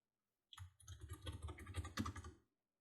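Someone types a comment on a computer keyboard: a quick, steady run of close key clicks lasting about two seconds, alone in a quiet room.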